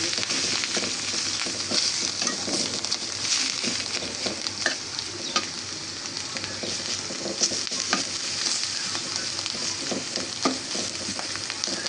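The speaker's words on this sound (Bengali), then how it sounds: "করলাগুলোকে এই গরম তেলে কিছুক্ষণ ভেজে নেব" Bitter gourd pieces fry in hot oil with a dense, steady sizzle and crackle, punctuated by occasional stirring scrapes, close and with no voices.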